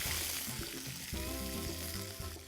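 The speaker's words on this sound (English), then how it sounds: "I'm going to add some chopped onions," Chopped onions sizzling steadily in hot oil and masala for an Indian tuna curry, a continuous close frying hiss with faint stirring.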